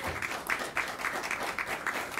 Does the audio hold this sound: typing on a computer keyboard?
no